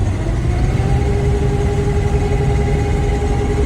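A 1991 Claas Dominator 98 SL combine harvester engine runs loud and close with a steady low rumble and whine, and holds an even pitch across the short stretch.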